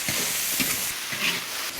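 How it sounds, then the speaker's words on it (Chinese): Duck giblets stir-fry in a wok with chili paste and red oil, a steady sizzling hiss broken by a few scraping stirs, close and moderately loud with no voices. "继续给它炒出味道来"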